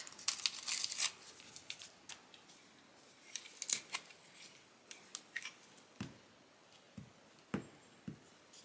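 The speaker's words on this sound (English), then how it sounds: "Let's go ahead and tear out what I want for that." Paper being torn out by hand for a papercraft layering project, a run of short crisp rips and crinkles close up, some louder snips and rustles among them, with no talking.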